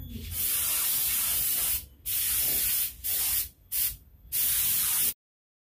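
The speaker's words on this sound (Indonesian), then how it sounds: "langsung saja kita semprot ya Lur ya" Spray gun applying candy paint to Yamaha V80 motorcycle parts such as the clutch block cover: loud, close, steady airy hissing in several bursts with short pauses between, ending abruptly in silence.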